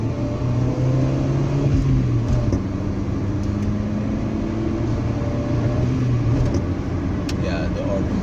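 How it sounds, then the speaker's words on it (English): 1999 Honda Civic VTi with a 1.6 litre VTEC engine and manual gearbox accelerating at full throttle, a loud, steady engine drone with rising tones from inside the car. "Now let's just try to floor it."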